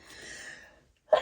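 A single sharp sneeze bursts out near the end, close and loud, following a long breathy inhale through the nose.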